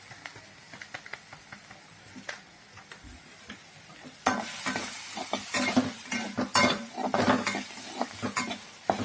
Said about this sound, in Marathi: परत चांगलं हलवून घ्या।